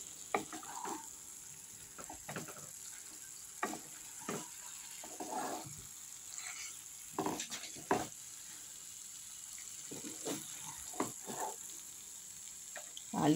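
Potatoes and peas stirred through spices in a kadai make quiet, intermittent scraping and shuffling strokes over a faint low sizzle, each stroke soft and close.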